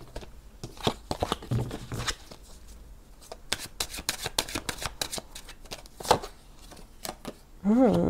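Tarot playing cards are handled and laid down on a surface, with crisp flicks, slaps and shuffling rustles in irregular bursts, close, plus a brief bit of voice near the end.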